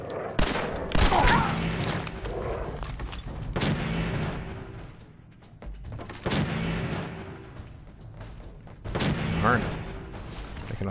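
Gunfire in the Fallout 4 video game comes in several loud bursts spaced a few seconds apart, with rumbling between volleys and a voice speaking over the action.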